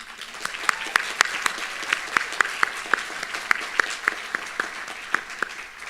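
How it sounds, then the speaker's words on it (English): A round of applause at the Emory University nursing graduation ceremony, with sharp individual claps standing out from a thinner, steady patter of clapping in a large hall. "Let's give a round of applause for our support system."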